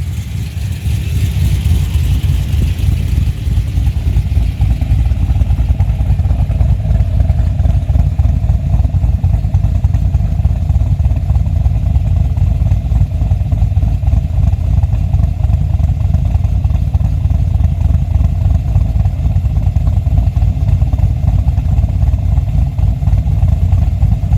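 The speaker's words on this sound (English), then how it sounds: "This vehicle is fitted with a 227 244 camshaft on 114 and also fitted with our 3-inch Pro Max system." Holden VE wagon with an L77 V8, fitted with a 227/244 camshaft on a 114 lobe separation and a 3-inch exhaust, idling loudly with a steady, choppy lumpy rumble throughout.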